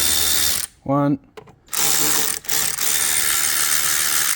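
A ratchet wrench clicks on 10mm bolts at an air hose clamp on a Toyota Corolla during starter motor work, giving a few short, close bursts of ratcheting separated by brief pauses, with a spoken word in between.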